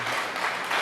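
Church congregation clapping in applause, a short continuous patter of many hands at moderate level, heard alone for under a second.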